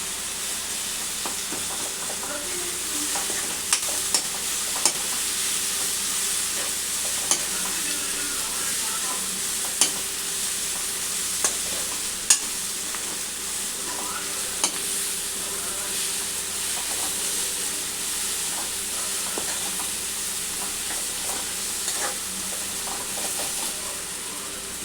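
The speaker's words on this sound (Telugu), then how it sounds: "ఈ పచ్చిమిర్చి కొంచెం ఫ్రై అయినాక మనం ఈ బురుగులు వేసుకోవాలి." Green chillies frying in a pan for uggani, with a constant hissing sizzle and occasional faint clicks of stirring, alone and fairly loud throughout.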